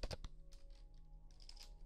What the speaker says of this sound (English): you can type out